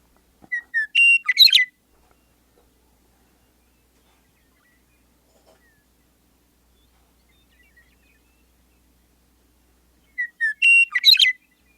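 A grassland prairie bird sings two clear whistled phrases, each a few quick rising notes ending in a liquid burst, separated by about nine seconds of near silence; close, clean and alone.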